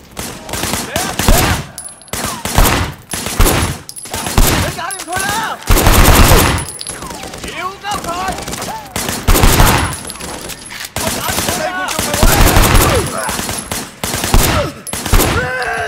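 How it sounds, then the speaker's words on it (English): Heavy gunfire from the video game Sleeping Dogs Definitive Edition, loud repeated bursts of automatic shots and single cracks in dense clusters across the whole stretch, with game sounds in between. "Shooting at the guys over there."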